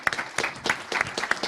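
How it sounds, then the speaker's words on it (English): Audience at a plenary session of a climbing association's general assembly breaks into applause, several distinct bursts of clapping across a short span, fairly close and loud. "I'd just like to give a round of applause for the ice climbing working group"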